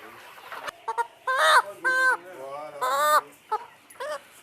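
Roosters and chickens in a poultry house on an African farm call out in several loud, drawn-out crows and clucks, close by, with bursts separated by short pauses.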